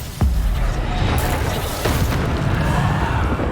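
Booming spell blasts from Bombarda in Hogwarts Legacy combat, a sharp explosion followed by a couple more heavy impacts over a dense roar of battle noise.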